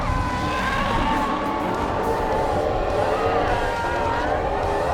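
A Hyundai IONIQ 5 N electric car drifts at Fuji Speedway, its synthetic engine-style sound rising and falling over steady tyre roar. The noise stays loud and continuous throughout, with no talk.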